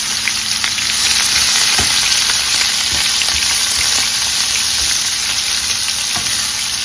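Vegetables sautéing in oil left over from frying fish for Jamaican escovitch, a loud, dense, continuous sizzle up close with occasional soft taps of a utensil stirring.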